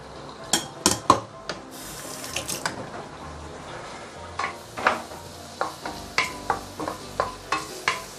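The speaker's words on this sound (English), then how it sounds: "I'm going to saute the ginger garlic shallot together with the green onion." Ginger, garlic, shallot and green onion sautéing in vegetable oil for braised pork leg with peanuts, with a steady run of sharp spatula scrapes and clacks against the pan over a low sizzle, close and fairly loud, no talk.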